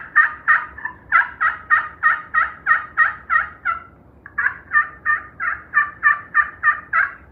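A hand-operated turkey call imitating a wild gobbler's gobble, producing two loud, rapid bursts of rattling gobble notes separated by a short pause, heard alone and up close.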